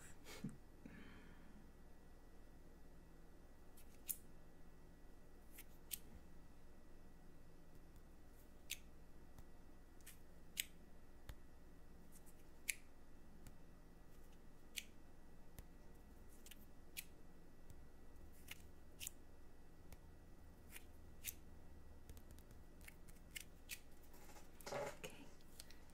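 Small scissors snipping in a quiet ASMR setting, sparse crisp clicks and snips at irregular intervals, close and soft against near silence.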